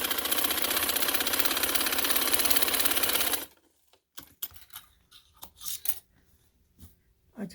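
An electric sewing machine stitches a border strip onto a garment, a loud, fast, steady mechanical whir for about three seconds that stops abruptly, followed by quieter clicks and fabric handling.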